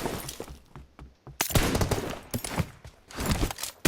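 Gunfire in the mobile shooter PUBG Mobile: a short quiet lull, then loud, rapid bursts of automatic shots crackle almost continuously to the end.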